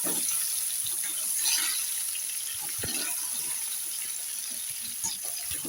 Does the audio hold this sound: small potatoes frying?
yes